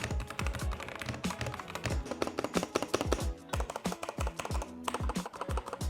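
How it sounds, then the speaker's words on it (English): Fast typing on a budget plastic gaming keyboard, a quick irregular run of close, crisp clacking keystrokes with a few heavier thunks, no voices. "here is what the typing actually sounds like on this keyboard"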